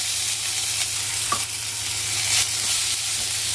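Asafoetida and freshly grated ginger fry in hot oil in a pan, a steady bright sizzle broken by a few light clinks and scrapes of a spatula stirring, close and continuous.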